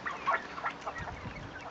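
Young Australorp chickens cluck and chirp close by in a quick scatter of short calls, with no talk.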